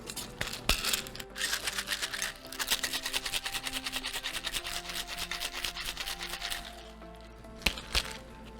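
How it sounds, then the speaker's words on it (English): Ice rattles hard inside a cocktail shaker as a lime daiquiri is shaken, a fast, steady, loud rhythmic clatter lasting about six seconds before it stops, followed by a couple of sharp knocks. "we're gonna add ice, shake it"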